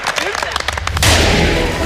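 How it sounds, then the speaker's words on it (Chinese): A LEGO build blows up with a sudden loud blast that throws up spraying water, after a run of sharp crackling pops like firecrackers. A broad, rushing roar follows. "Let's blow it up."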